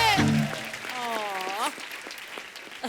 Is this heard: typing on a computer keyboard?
no